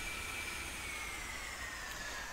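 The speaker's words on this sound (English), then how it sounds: "Shut down the engine." A-10A jet engine in the DCS flight simulator, a steady, fairly quiet broadband roar with a high whine that slowly drops in pitch as the engine spools down, continuous and unbroken throughout.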